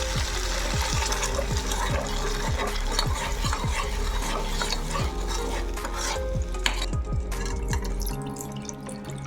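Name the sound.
stirring milk and cornflour sauce for Alfredo pasta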